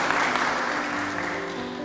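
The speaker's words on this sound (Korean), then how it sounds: "장기근속 직원 모두에게 다시 한번 큰 박수로 축하해 주시기 바랍니다." An audience at a university anniversary ceremony for long-serving staff claps in a dense, sustained burst of applause that holds steady for a couple of seconds.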